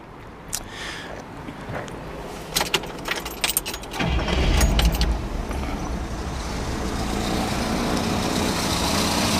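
Keys jangle before a 1966 Cadillac DeVille convertible engine cranks and catches, then settles into a steady, smooth idle with a small exhaust leak.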